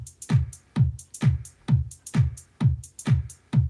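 A steady loop of eight punchy drum hits in a swing rhythm, each a low thump topped by a crisp, short closed hi-hat tick, repeating evenly with no voices.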